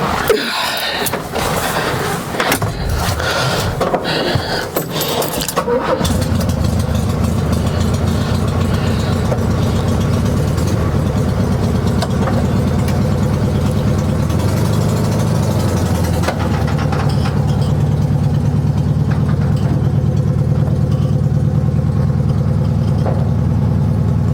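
A 1973 Volkswagen Beetle engine, its first run in years, catches after a few seconds of cranking and settles into a steady, close, loud idle. The low rumble holds evenly to the end.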